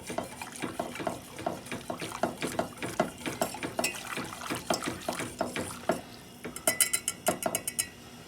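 A whisk stirs a thickening cream sauce in a pan for chicken-filled dinner crêpes, making quick, regular metallic clicks and scrapes that speed into a brisk clatter at the end, fairly close and quiet.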